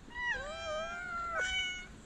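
A domestic cat meows twice, a drawn-out rising and falling call followed by a shorter second meow, close and clear against quiet room tone.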